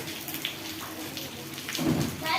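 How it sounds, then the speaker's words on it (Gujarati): Steady heavy monsoon rain hisses throughout, water running off a rooftop terrace, with a heavier wash building near the end; no voices are heard over the downpour, in Gujarat, India. "અમારે તો અહીંયા અત્યારે ધોધમાં વરસાદ વરસી રહ્યો છે"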